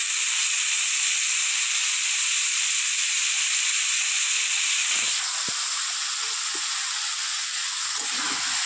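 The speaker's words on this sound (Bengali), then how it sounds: "এবার মোচাটা দিয়ে আমি একটু কষিয়ে নেবো।" Boiled banana flower with potato and soaked chickpeas sizzles in oil in a pan. A loud, continuous hiss runs throughout, with a few soft clunks from the pan or a spoon in the last few seconds, and no talk.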